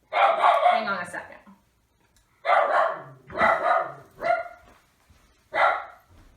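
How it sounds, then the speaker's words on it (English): A dog barks in several sharp bursts spread across the stretch, fairly close and loud, with quiet gaps between them; it is barking at other dogs and no one talks over it. "You're not supposed to be barking at other dogs when I'm filming."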